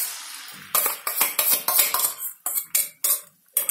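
A utensil scrapes and clinks against a pan in quick irregular strokes while three beaten eggs are stirred into an egg paratha, close and sharp with no talking.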